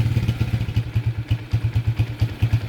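A motorcycle engine revved in short, repeated bursts, each throttle blip rising then easing off in a steady pulsing rhythm, close and fairly loud with a mechanical clatter underneath.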